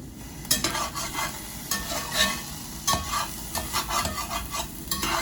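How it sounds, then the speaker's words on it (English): Food sizzles steadily in a hot pan while a utensil scrapes and stirs it in repeated strokes, close and continuous with no talking, as burrito fillings with potatoes cook. "first I'm gonna heat up this pan over here"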